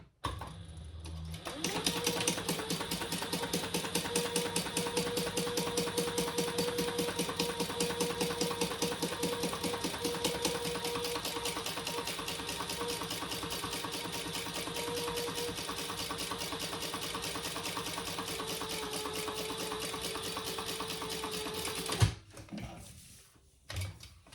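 A sewing machine basting fabric in one long continuous run, its rapid needle chatter steady and close for about twenty seconds before stopping, with no talk.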